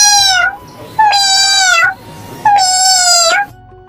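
A cartoon black cat gives three long, loud, drawn-out meows, evenly spaced with short pauses between them.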